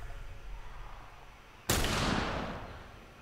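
A single loud gunshot from a firearm in The Last of Us video game, a sharp broadband blast that cuts in after a quiet stretch of low game ambience and trails off over a second or two.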